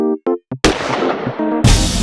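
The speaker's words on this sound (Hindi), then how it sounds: "सर ये तो गोली चलने की आवाज है।" Gunfire in a crime thriller scene: a few short tonal blips, then a sharp loud burst with a ringing, noisy tail, followed by a second abrupt blast, close and with no talk.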